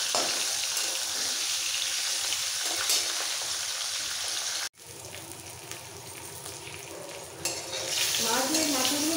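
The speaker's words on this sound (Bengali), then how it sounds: "মাথার পিসগুলো একটু কড়া করে ভেজে নেবো।" Pieces of rohu fish head sizzle loudly in hot oil in a pan, with a continuous crackling hiss that drops briefly midway before resuming, and stirring noises through it.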